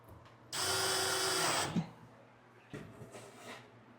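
A power drill drives a screw while a kitchen cabinet is assembled, one loud, steady whir of about a second, then quieter clattering and handling of parts nearby.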